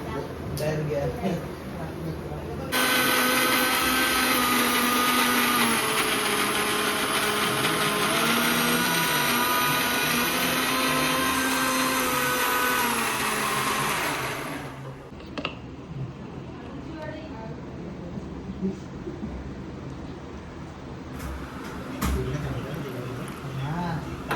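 A small mixer grinder whirs loudly and steadily for about twelve seconds grating fresh coconut, then cuts off, leaving quiet room noise and a few small clatters.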